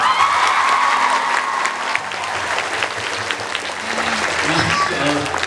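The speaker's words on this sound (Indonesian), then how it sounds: "Tepuk tangan buat kita semua" Indoor audience at an Islamic girls' school event in Lampung breaks into loud, sustained applause with a few cheers, while a voice keeps talking underneath.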